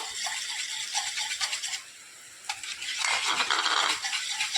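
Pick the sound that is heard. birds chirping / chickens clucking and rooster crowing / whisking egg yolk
whisking egg yolk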